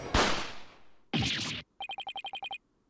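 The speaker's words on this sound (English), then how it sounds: "Was that a gunshot?" In the video game Ace Attorney Spirit of Justice, a sharp gunshot blast with a rushing tail rings out, followed by a second burst and then a rapid series of about eight short chiming text blips.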